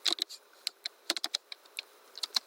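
Keystrokes on a computer keyboard, a quick irregular run of crisp clicks close up, some in rapid bursts and others spaced apart, with no talking.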